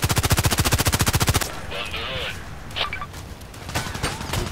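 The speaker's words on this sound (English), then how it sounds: "I hear the fire in the background" Rapid automatic gunfire from the online shooter Contract Wars rattles in a dense, fast burst for about a second and a half, then gives way to scattered distant shots and faint battle noise.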